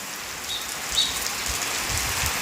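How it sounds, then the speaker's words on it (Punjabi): Heavy rain pours steadily outdoors with a dense, even hiss of drops hitting surfaces, continuous and fairly loud throughout, with no voices. "ਜਿਵੇਂ ਮੀਂਹ ਹੁਣ ਤੇਜ਼ ਆ ਗਿਆ"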